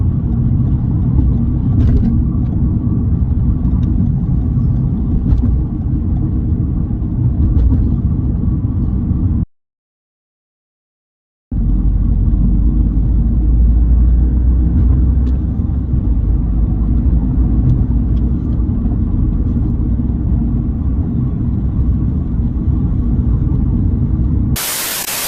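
Toyota GR Yaris cruising at 60 in fifth gear, a steady low engine drone and road rumble heard from inside the cabin, continuous apart from a short silent gap midway.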